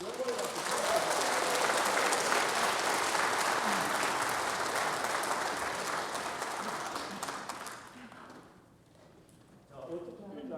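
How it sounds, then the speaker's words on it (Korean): Church congregation applauding loudly and steadily at an Easter cantata during a Sunday evening service, the dense clapping holding for about eight seconds before fading, with a brief burst of talk near the end. "우리 배우님께는 큰 격려의 박수, 하나님께는 영광의 박수."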